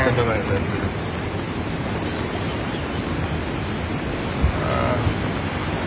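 Floodwater rushing past submerged homes, a loud, dense, continuous roar like heavy surf that fills the whole stretch with only slight swells and a couple of brief knocks near the end.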